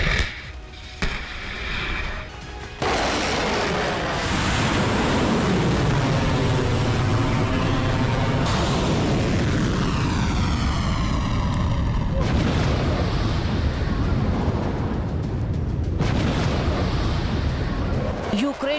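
Missile strikes and heavy explosions from the Russia-Ukraine war, a loud continuous roar of blasts and rumbling booms with whistling descending tones, dense and close throughout.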